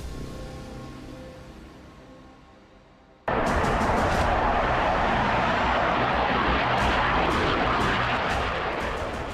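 Tejas Mark 1 fighter jet roaring loudly, a sudden broad jet-engine blast that cuts in after a fading hum and holds steady close by, with sharp bursts over it.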